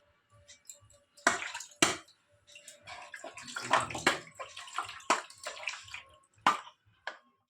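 Water splashes and pours while a small child is bathed and shampooed. Irregular, close bursts of sloshing and dripping come and go, with quiet gaps between them and no talking.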